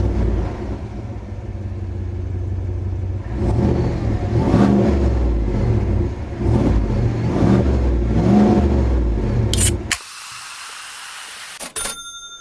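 A GMC Sierra Denali pickup with a 6.2-liter V8 fires up and revs several times, deep loud bursts of exhaust roar rising and falling close by before cutting off abruptly, followed by near silence.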